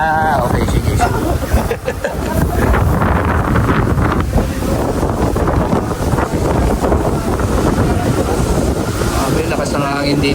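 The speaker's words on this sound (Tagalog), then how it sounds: "Grabe, lakas ng hangin dito." Strong wind at the sea blasts a handheld microphone, a loud, continuous roar and buffeting that smothers everything else.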